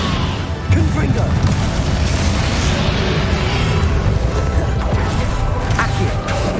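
Confringo explosive spell impacts in Hogwarts Legacy during the battle against Ranrock land as dense, crashing booms in a loud, sustained stretch of blasts, with a voice heard amid the noise.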